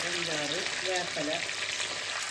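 Cauliflower pieces with curry leaves deep frying in hot oil give a steady, close sizzling hiss with bubbling crackle throughout, while a voice speaks briefly in the background.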